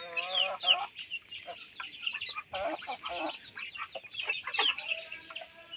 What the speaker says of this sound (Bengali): এই এখানে আমার সবগুলো মুরগি আছে মুরগির ঘর এটা